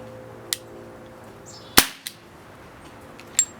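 Umarex Beretta M92 FS .177 CO2 pellet pistol fired in single action, giving sharp isolated cracks spaced about a second or more apart, one much louder than the rest, over quiet background hum.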